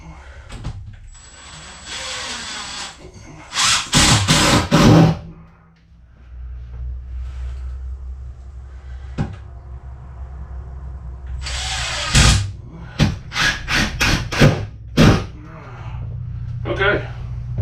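Power screwdriver driving screws during a cabin renovation, heard in several short bursts of whirring and ratcheting, loud and close, with spoken talk between the runs.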